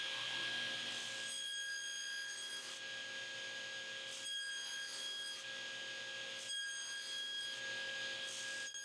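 A table saw cuts wooden tenons with a jig in repeated passes, each pass bringing a rasping, rubbing cut over a steady high motor whine; the workshop is fairly quiet otherwise.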